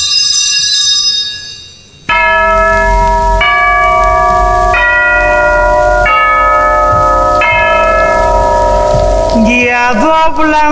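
Large church bells toll in a slow, even rhythm, about one loud ringing strike every second or so, each left to hum and overlap the next. A sustained harmonic tone comes before the first strike.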